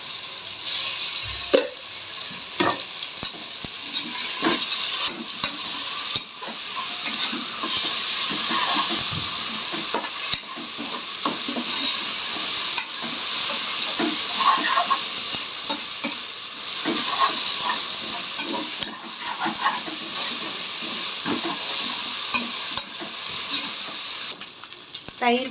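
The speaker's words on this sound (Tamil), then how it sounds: "அடுத்து இஞ்சி பூண்டு பேஸ்ட் சேர்த்துக்கலாம்." Ginger garlic paste sizzles and fries in a pan while being stirred for a Muslim-style white kuska, a steady close hiss punctuated by frequent scraping stir strokes throughout.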